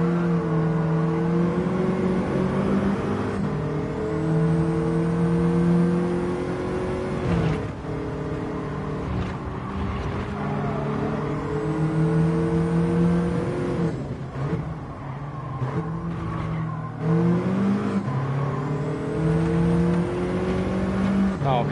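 Race cars in Gran Turismo 7, including a BMW and a Mercedes, scream along a straight as one overtakes. The engines whine loud and close, their pitch climbing through each gear and then dropping at the shifts.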